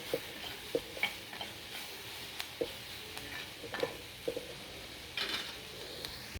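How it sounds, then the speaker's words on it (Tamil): Onions sautéing in a pan with a little salt for potato masala, heard as a soft steady sizzle with scattered light stirring clicks and scrapes, fairly quiet throughout with no talking. "இந்த வெங்காயத்தை இதில் சேர்த்து கண்ணாடி பதத்துக்கு நம்ம வந்து இதை வதக்கி எடுத்துக்கலாம்"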